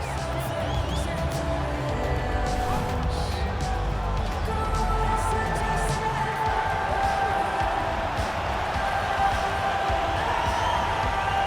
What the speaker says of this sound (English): as she makes this walk, you hear the crowd behind her